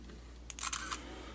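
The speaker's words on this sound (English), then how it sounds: "Touch the 2, take a picture." A Sony W35 compact camera fires through a hacked shutter wire, giving one short, faint mechanical click-and-whir burst in the middle of an otherwise quiet moment.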